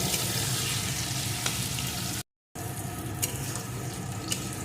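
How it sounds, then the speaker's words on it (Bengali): Pointed gourd pieces and potatoes fry together in hot oil, a constant loud sizzle with faint stirring clicks, broken by a brief dead-silent gap midway before the frying resumes. "এখন পটলটাও আলুটার সাথে ভালো করে ভেজে নেব"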